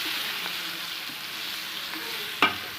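Stuffed bitter gourd masala with chili powder fries in a pan, a soft continuous sizzle with a few light stirring taps and one sharp clink near the end, no talking.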